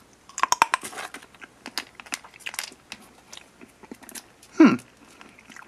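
Crunchy, tart strawberry-flavored Japanese candy is chewed close up in sharp, irregular crunches, followed by a brief louder clatter near the end.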